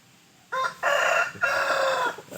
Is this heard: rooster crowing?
yes